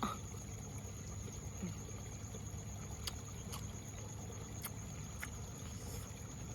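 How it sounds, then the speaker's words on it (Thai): Water flowing outdoors, a soft continuous trickling stream with occasional faint clicks and high chirps, quiet and steady. "ได้ยินเสียงน้ำมาผูสม บรรยากาศได้คักเนาะ น้ำไหลอยู่ค้างๆนี่นะผู้ชม"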